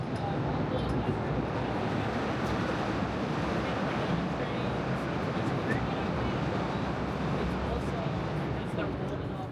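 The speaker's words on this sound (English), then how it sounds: "Oh, train." A train rumbles past in a steady, loud broadband roar that holds throughout with no pause.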